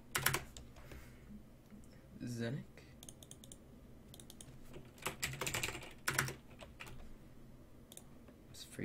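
Irregular bursts of typing on a computer keyboard, clustered clicky keystrokes with short pauses between, close and fairly quiet, with a brief spoken word partway through.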